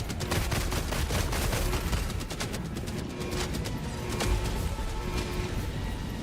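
Gatling sentry fire in a video game: dense, continuous rapid-fire bursts rattling loudly throughout, with scattered heavier impacts layered over a busy battle din.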